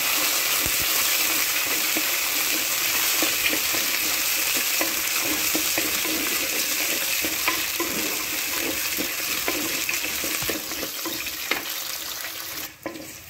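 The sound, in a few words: garlic and curry leaves sautéing in a pan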